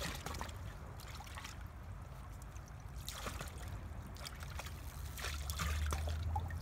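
Water trickling from a hand-pumped stream in a small hydrodynamic project, a faint, steady dribble with occasional splashes under low background noise.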